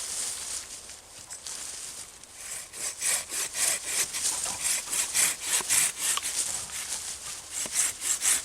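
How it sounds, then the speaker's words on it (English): A hand saw cuts through a wooden crotch stick at a wilderness camp in Canada, with steady, close back-and-forth strokes that grow louder and more regular partway through. "We'll use our saw here."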